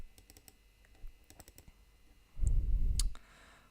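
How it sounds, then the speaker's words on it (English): A computer mouse clicks lightly a few times against faint background noise. One fuller rumble stands out, with no speech. "I'm just gonna double click"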